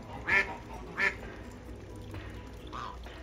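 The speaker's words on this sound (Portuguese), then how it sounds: "Essa é a fêmea, pessoal. A vocalização da fêmea." Female white swan calling in a backyard poultry setting: two short nasal honking calls close together near the start, then a softer third call a moment later, over faint background noise.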